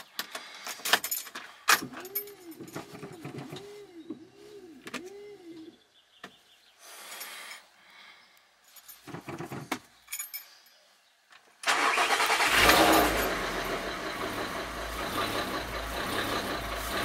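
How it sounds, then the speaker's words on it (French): A Volkswagen Golf MK5 R32 is started after an oil change. Scattered clicks, jangling and a squeaky chirping come first, then the engine catches with a loud burst and settles into a steady, rumbling idle close by. "On y va, démarrage."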